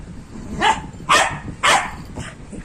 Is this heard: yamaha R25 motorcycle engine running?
no